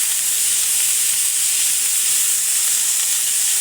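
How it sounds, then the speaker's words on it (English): Bacon and chopped white onion cooking together in a pan give off a steady, close hiss and sizzle. The sound stays even and unbroken throughout, with no voices over it. "we're going to let that bacon keep on cooking while those onions sweat off a bit and go a bit translucent"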